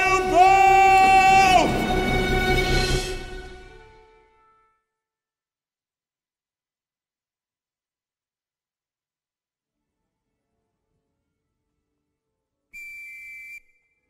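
A single loud whistle blast in a Phantom of the Opera stage recording, strong and tonal, sliding slightly before fading out over about four seconds, then a long silence and a brief faint tone near the end.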